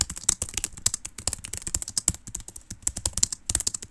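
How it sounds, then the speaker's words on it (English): Rapid, uneven clatter of keys on a computer keyboard during a fast online typing race, steady bursts of close keystrokes with no talking. "I don't know what I'm typing."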